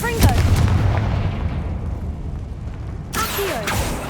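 A Confringo fire spell from Hogwarts Legacy goes off as a sharp booming blast and rumbles away. A second crackling burst strikes near the end, with game effects and a voice mixed in.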